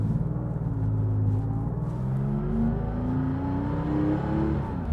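A 1968 Porsche 911 R engine is heard loud from inside the lightweight, poorly insulated cabin, revving and climbing steadily through short gears with a rising drone.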